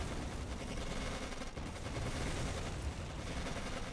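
Dense gunfire from the WWII strategy game Codename: Panzers Phase One, a continuous rattling barrage of shots that fills the whole stretch with no pauses.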